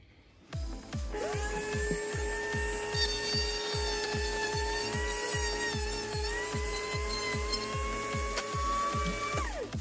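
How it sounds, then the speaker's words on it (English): A power drill whines at a steady high pitch while drilling a hole through wood for wiring, with rapid rhythmic chattering underneath, close and loud, running continuously after a brief start. "Just gonna re-drill the hole all the way through for this wiring to go in."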